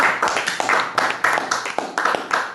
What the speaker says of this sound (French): Applaudissons pour le frère Landreau.